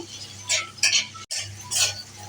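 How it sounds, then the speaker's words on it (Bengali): Bitter gourd frying with salt and turmeric, stirred in a pan: several scraping, clinking strokes of a utensil against metal over a faint, close sizzle. "নাড়িয়ে একটু ভেজে নেব উচ্ছেটা"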